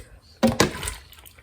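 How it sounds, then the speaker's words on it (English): Pineapple pieces in water dropped into glass pint jars, two quick close wet clunks of fruit and glass, then quiet. "Now I'm just filling some pint jars with them."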